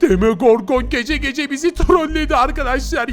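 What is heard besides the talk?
None of the usual background noises is heard.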